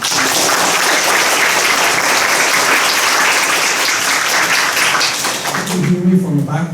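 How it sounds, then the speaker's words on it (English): Steady, dense applause from a college lecture audience welcoming a guest professor, loud and sustained before fading out, with a voice starting at the end. "let's give a warm round of applause to welcome Professor Henry Yang to our college"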